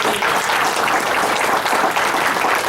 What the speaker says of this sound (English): Kate Runyon, please give her a hand